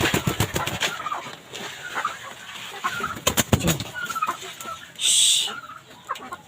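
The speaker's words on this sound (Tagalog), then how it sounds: "So bali ito na nga pala yung mga manok namin mga katalong guys, so yun na lang matitira." Backyard chickens cluck and squawk at feeding time, a busy, close flock with scattered sharp calls and a short loud burst, while a person speaks now and then.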